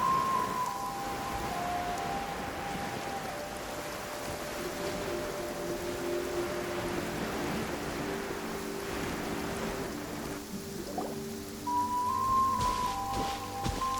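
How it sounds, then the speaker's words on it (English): Heavy video game rain pours steadily throughout as a dense, continuous hiss, with faint musical tones drifting underneath and no talking. "This heavy rain must be quite an inconvenience for you."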